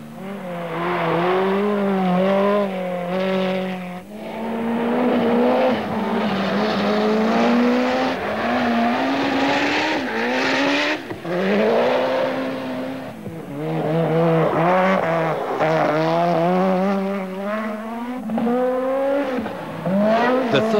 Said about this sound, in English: chechter is doing well in his 205 Evolution, just keeping up with Wilson in the Ford RS200 and Millen in a Mazda RX-7